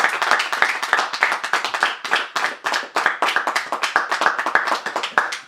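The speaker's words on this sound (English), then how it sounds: "So I would like to clap for the women in our house." A church congregation claps for the women during a sermon: a string of sharp, fairly close hand claps in an uneven, loose rhythm, moderately loud and carrying on throughout with no talking over it.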